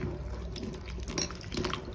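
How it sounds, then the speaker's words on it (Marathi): Water drains and drips out of a colander of freshly washed vegetables, including beans, as a close, steady trickle with small splashes. "असं चाळणीत घालायचं आणि ठेवायचं, म्हणजे पाणी नितळतं"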